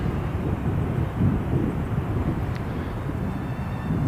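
A Qantas airliner passing while plane spotting, a steady broad jet roar with a low rumble, continuous and fairly loud throughout.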